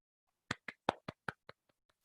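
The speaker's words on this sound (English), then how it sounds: "can we have a huge round of applause for an amazing and vivacious Toastmaster of the Day" Sparse, faint handclaps from an online Toastmasters meeting, about six distinct claps in an uneven rhythm that trail off into a couple of softer taps, with silence around them.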